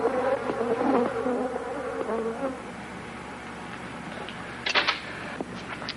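A swarm of Africanized bees from a 1976 horror film drones with a dense, steady buzz for a couple of seconds, then fades to a thinner hum with a few sharp clicks near the end.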